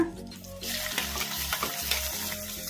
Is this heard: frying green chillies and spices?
yes